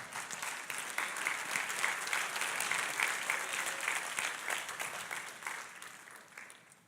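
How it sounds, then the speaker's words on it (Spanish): A church congregation claps together in a sustained round of applause, dense and even throughout, gradually fading toward the end, heard from some distance in the room. "Si va a aplaudir, aplauda."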